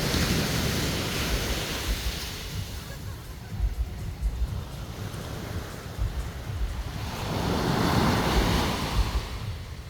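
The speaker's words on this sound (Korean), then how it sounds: "파도 소리가 굉장히 아름답습니다." Ocean surf on Nha Trang beach in Vietnam washes in a steady, broad roar, swelling and easing as waves break, with wind noise on the microphone and no voices.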